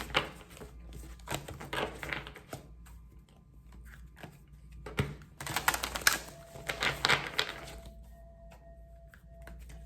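A deck of reading cards is shuffled in several rapid, riffling bursts, close and crisp with clicking, flapping texture, separated by brief quieter gaps.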